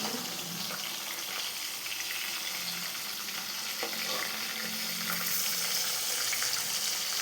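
Fish frying in a pan of oil, a steady broadband sizzle that holds at an even level throughout, close and continuous with no voices.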